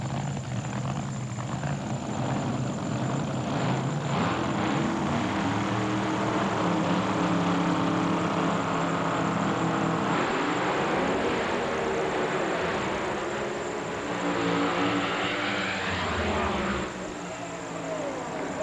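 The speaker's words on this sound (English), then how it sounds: "Here's the final in Top Alcohol Dragster live at the U.S. Nationals." Top Alcohol Dragsters thunder through a drag race final at the 1995 NHRA U.S. Nationals, Indianapolis Raceway Park, a loud, sustained engine roar with rising and falling pitch that fades near the end.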